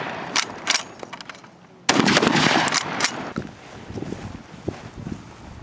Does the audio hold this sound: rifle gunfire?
yes